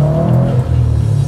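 Subaru Impreza WRX STI, tuned by Subaru's performance arm, revving its engine close by in a loud, steady roar with a brief dip before climbing again.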